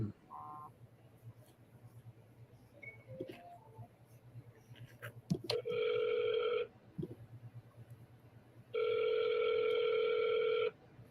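An outgoing phone call's ringback tone plays as two long electronic rings, separated by a pause, against a faint room hum and a few small clicks.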